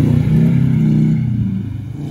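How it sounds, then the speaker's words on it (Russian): An off-road vehicle with a broken axle mount at an off-road event runs with a Subaru-like boxer engine note, loud and close, holding a steady drone before easing off. "Звук как у Субару"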